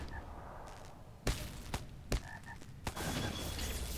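A toad matriarch croaks in a video game, with a few short guttural croaks amid dull thuds and swishes over a busy game soundscape.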